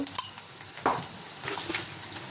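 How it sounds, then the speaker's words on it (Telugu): Onion pieces frying in oil with curry leaves and green chillies in a pan, a soft steady sizzle with a few sharp clinks and scrapes of a spoon against the pan, close and fairly quiet. "ఉల్లిపాయ ముక్కలు మంచిగా ఫ్రై చేసుకోవాలి కొంచెం కరివేపాకు రెండు పచ్చిమిరపకాయలు వేస్తున్నా"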